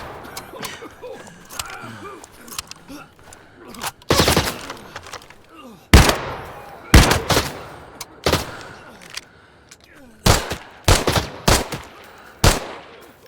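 Gunfire in the video game Arena Breakout: Infinite comes as loud, sharp bursts, first sparse single shots and then rapid clustered volleys in the second half, with quiet gaps between them.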